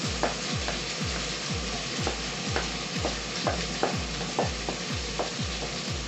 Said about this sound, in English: So, what I do now, get my onions in.